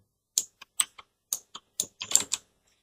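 Keystrokes on a computer keyboard while entering a settings search in the VS Code editor, a few separate taps and then a quick tight burst, close and clear with no talking.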